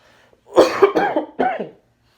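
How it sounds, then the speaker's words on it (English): A person coughs in a short fit of three harsh, close bursts, loud and alone with no talking. "I'm trying my best to fight this cough."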